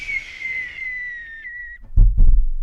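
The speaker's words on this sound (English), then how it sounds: "That's that booger whistle, baby." A thin, high nasal whistle from someone's nose holds steady for about a second and a half and then cuts off, followed by two soft low thumps.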